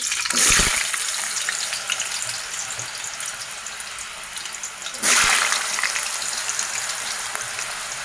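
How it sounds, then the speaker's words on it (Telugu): Potato pieces drop into hot oil for deep frying, two loud splashing sizzle bursts near the start and midway, then a steady crackling bubble continuing close by. "వాటర్ వాడిపోయిన తర్వాత డీప్ ఫ్రై చేస్తాను బంగాళదుంప."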